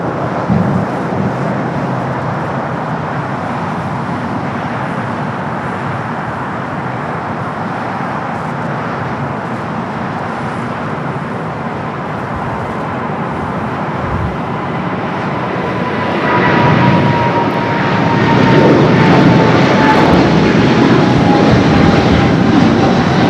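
The GE90 jet engines of a Boeing 777-300 roll it down runway 25 right at LAX, a steady broad roar from a distance that swells louder toward the end.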